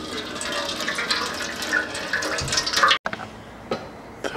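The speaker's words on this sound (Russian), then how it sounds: "Сейчас солью воду." Water pours and splashes as it drains from the washer fluid reservoir of a 2012 Volkswagen Scirocco 1.4, a steady close trickle that stops abruptly, followed by a few faint drips and clinks.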